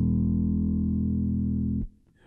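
Bass guitar played flat with no equalization through an EBS HD360 NeoLine head and cabinet: a single sustained low note rings loud and steady for nearly two seconds, then is abruptly muted.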